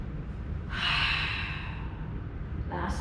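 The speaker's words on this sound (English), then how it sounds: "Three more breaths like that." Heavy breathing during a mat Pilates exercise for pelvis stability: a long, loud exhale swells in and holds for about two seconds, then fades, with a fresh breath starting at the end.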